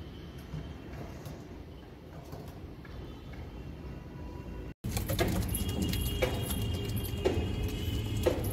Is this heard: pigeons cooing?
yes